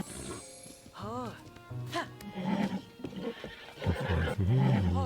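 A horse in the Zelda: Tears of the Kingdom video game whinnies loudly several times, with hoof clip-clops and game sounds mixed in, while a voice talks over it.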